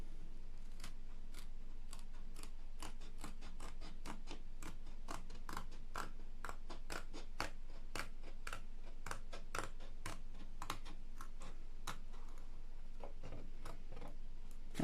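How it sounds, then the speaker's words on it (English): Scissors snip repeatedly through a thin, stiff wood guitar-neck shim, crisp sharp cuts at a steady, fairly quick rhythm, close up. "For quickness I'm going to cut the back curve with scissors."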